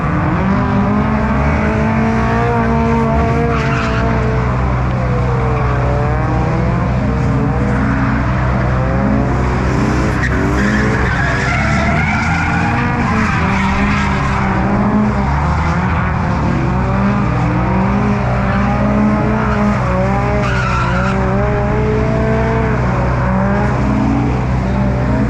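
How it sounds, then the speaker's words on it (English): Cars drifting at a Japanese car show, engines droning loud and close with rising and falling revs and tire noise, sustained throughout without a break. "Let's go see some drift action."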